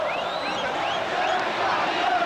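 Football supporters in a packed stadium roar and shout together in a sustained, dense wall of crowd noise as Corinthians clinch the 2005 Brazilian championship title, with scattered whistles rising above the mass of voices.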